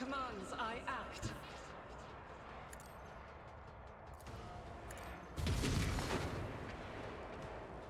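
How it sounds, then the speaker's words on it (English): Grenades exploding in the Rogue Trader video game, a broad burst of booms and blasts rising loud around the middle and lingering as rumbling noise, with brief voice-like tones early on over a busy battle backdrop. "Do they have grenades on them that are exploding?"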